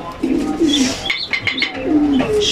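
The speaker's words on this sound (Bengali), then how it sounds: "13 নম্বর কবুতর" A racing pigeon coos in close, loud, throaty bursts, with faint chirps and a little wing rustle around it.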